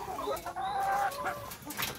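Chickens cluck and call on a combined poultry and pig farm, a few overlapping bird voices close by, busy and continuous over two seconds with no talk.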